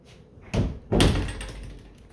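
Closet door in a house being pushed shut, two quick knocking thuds close by, the second heavier, followed by a short fading rattle.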